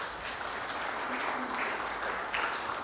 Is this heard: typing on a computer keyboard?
no